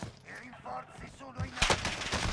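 Video game gunfire bursts out in a sharp cluster of shots near the end, under and after excited talking from a player.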